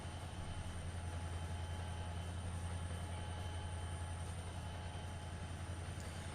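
Freight train in Trainz Simulator 2 running on the Horseshoe Curve route toward Altoona: a steady, loud low rumble with a constant tonal hum, unbroken and alone for the whole stretch.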